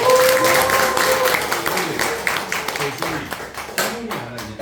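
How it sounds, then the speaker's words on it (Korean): An audience claps to welcome a professor to a lecture, with sharp claps that start full and gradually thin out, and a voice speaking over the clapping. "우리 조덕호 친구 교수가 강의할 거니까 박수로서 모셔서"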